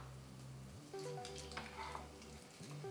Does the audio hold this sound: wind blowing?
no